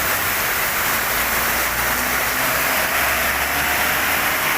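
Heavy monsoon rain in Kerala pouring steadily onto streets and shop tiles, a dense continuous hiss of downpour with no pauses.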